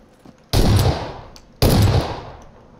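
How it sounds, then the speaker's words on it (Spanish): Two loud, sharp gunshot blasts with decaying tails, about a second apart, ring out in PlayerUnknown's Battlegrounds gameplay. "¿te están disparando a ti?"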